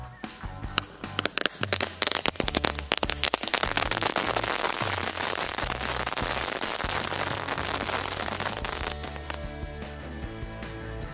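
Firecrackers and fireworks set off during the fasting month go off in a rapid, dense barrage of sharp cracks and bangs that merges into a loud crackling roar, then thins out toward the end.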